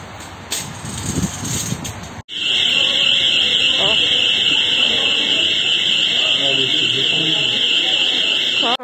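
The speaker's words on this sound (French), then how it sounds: "il y a l'alarme qui s'est déclenchée" A store alarm goes off inside an IKEA: a sudden, continuous, piercing electronic tone cuts in after a couple of seconds and keeps blaring loudly and steadily, with busy indoor crowd noise beneath it.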